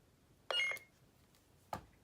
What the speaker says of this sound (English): Push and hold the power button for the first beep,